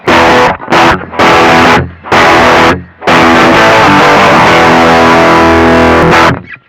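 Electric guitar on the rear pickup through a VOX Valvenergy Mystic Edge tube distortion pedal, loud saturated chords strummed in short bursts, then a long sustained ringing chord that cuts off, played alone without talk.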